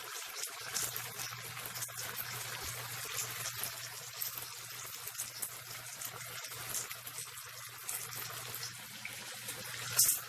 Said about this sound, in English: I'm just going to get my hands washed